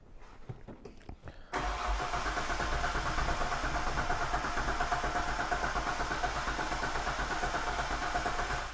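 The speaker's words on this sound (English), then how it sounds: "All I'm doing is it cranking" Hyundai Terracan engine cranking on the starter for a compression test, a few short clicks and then a loud, steady, rhythmic churning that carries on unbroken for several seconds, close up, with no talk.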